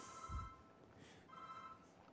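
A phone ringing in a lecture hall: two faint electronic ring pulses with a gap between them, distant and quiet against the room's low background hum.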